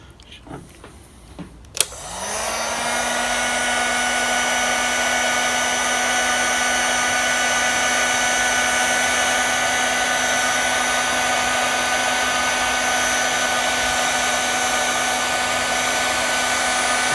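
A heat gun blows a steady, loud whooshing roar at close range, starting abruptly after a few faint handling clicks and holding constant with a faint whine, as it shrinks heat-shrink tubing over a stainless steel brake line fitting.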